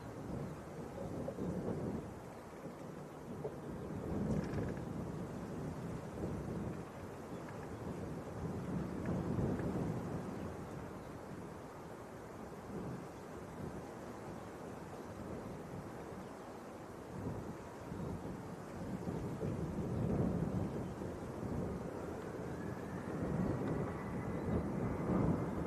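Jet2 Boeing 737-800 departing Leeds Bradford Airport, a distant rumbling jet roar that rises and falls in waves across the whole stretch, heard outdoors without speech.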